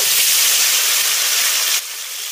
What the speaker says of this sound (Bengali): তেল গরম হয়ে গেছে, এবার তেলের মধ্যে মশলা দিয়ে মাখিয়ে রাখা মাছটা দিয়ে দেব